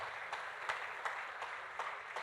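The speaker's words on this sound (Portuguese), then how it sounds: "Quem está feliz com Jesus aí, aplaude Ele mais uma vez." A church congregation applauds faintly and at a distance, with soft steady clapping broken by a few sharper claps.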